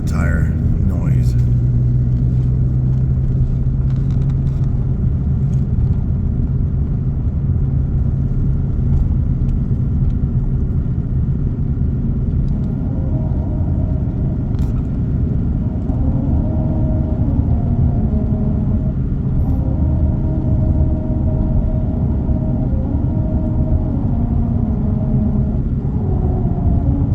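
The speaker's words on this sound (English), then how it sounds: "So when we drive on it, you can hear the music that it makes driving on the road." Car tires roll over a grooved musical road, and faint tonal notes rise out of a loud, steady road rumble and engine drone heard from inside the vehicle, with a voice talking over it.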